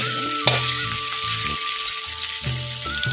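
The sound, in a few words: stirring frying karonda pickle in pan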